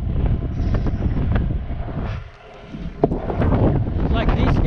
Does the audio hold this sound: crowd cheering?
no